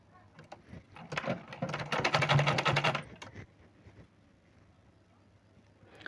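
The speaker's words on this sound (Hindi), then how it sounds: "इसके बाद सिलाई मशीन चला लेंगे" A sewing machine stitches a fall onto a silk saree in one short, rapid burst of mechanical whirring near the middle, with quiet before and after.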